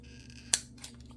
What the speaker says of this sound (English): I'm gonna get my scissors in there